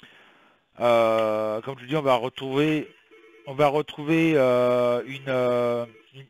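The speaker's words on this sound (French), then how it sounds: "Excusez-moi pour le téléphone." A telephone rings faintly in short steady bursts underneath a man's continuous French speech, the tone nearly buried by his voice.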